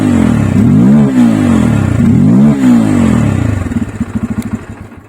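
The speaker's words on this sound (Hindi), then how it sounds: "तो ऐसा कुछ एग्जॉस्ट चालू हो जाएगा।" A Bajaj Pulsar F250 motorcycle is cranked and its exhaust revs loudly and close, rising and falling in two revs before settling into a fast, pulsing idle burble.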